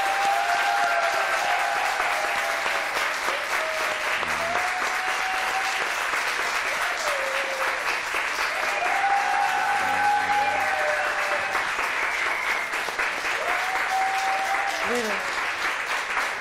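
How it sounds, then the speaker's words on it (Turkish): Sustained studio audience applause on a Turkish daytime talk show, loud and dense throughout, with voices and emotional exclamations rising over the clapping. "Hadi kocaman alkış rica ediyorum sizden"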